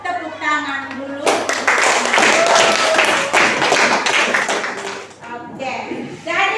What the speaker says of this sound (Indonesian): sebelum kita akhiri, kita tepuk tangan dulu.